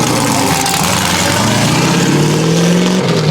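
A car engine, freshly revived and being prepped for a burnout competition, runs loud and close, with a steady rumble and a rising tone as it revs up over a few seconds.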